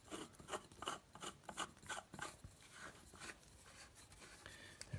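Scraping and rasping as a 1.5-inch male connector is screwed onto a sump pump pipe, a series of short, faint rubbing turns in an uneven rhythm.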